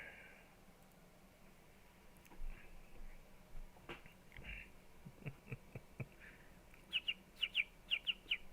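Polly, a pet bird indoors, gives a run of short, sharp chirps near the end, quick paired tweets over faint room noise and soft knocks.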